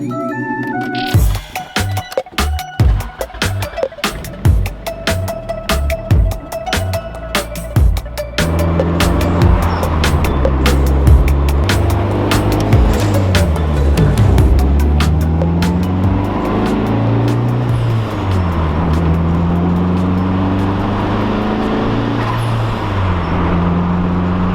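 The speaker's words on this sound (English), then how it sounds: "It does like a flutter and then a blow off kind of at the same time, just because the wastegate sort of sucks." A turbocharged car on a test drive revs and shifts, its engine note climbing and falling, then settles into a sustained roar with fluttering boost and blow-off bursts, loud and close with no speech.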